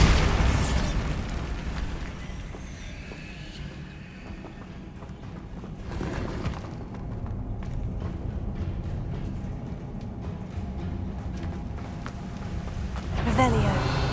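A Bombarda explosion spell from Hogwarts Legacy, a loud burst at the start, a rumbling game soundscape with crackling debris, and another sharp blast near the end.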